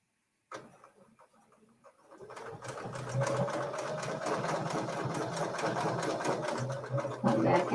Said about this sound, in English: I'm going to stitch back over into the parking area and rotate my template again.